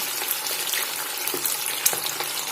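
Pieces of fish frying in shallow oil in a home kitchen, giving a continuous close crackling sizzle with small irregular pops throughout and no voices.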